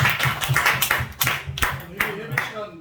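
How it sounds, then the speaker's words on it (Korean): Audience at a press conference held around a thanksgiving worship service gives a short round of clapping, several distinct claps in an uneven rhythm close by, mixed with some talking. "박수를 한번 드립니다."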